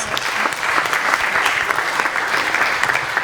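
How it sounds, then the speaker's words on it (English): Church congregation clapping together in worship, a steady dense roar of applause filling the whole stretch, loud and continuous with faint voices blended in. "Clap for Master Jesus"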